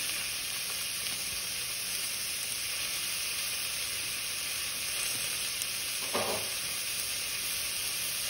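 Extra lean ground meat sizzles steadily in an air fryer lasagna prep, a continuous close hiss and crackle with a brief stir-like burst near the end.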